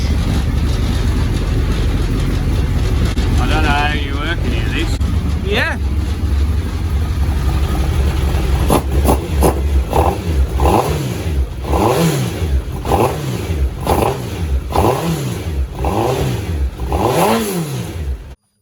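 A Classic Mini fitted with a Hayabusa motorcycle engine runs loud and close, first at a rough steady idle and then through a series of rhythmic, repeated revs that rise and fall in quick succession.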